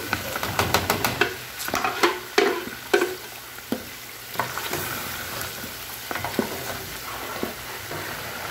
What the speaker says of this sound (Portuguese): ele vai fritando pouco a pouco. Então vamos deixar fritar